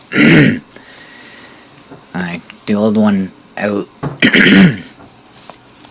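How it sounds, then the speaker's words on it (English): A couple of sharp throat-clearing coughs up front from a man with dust in his throat, followed by him talking at close range. "I'm still coughing up dust from cleaning out the garage."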